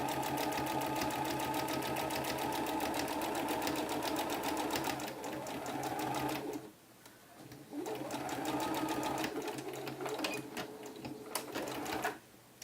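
Sewing machine running steadily to stay stitch around a sleeve on a peasant top, a continuous rapid mechanical whir that pauses briefly midway, then resumes.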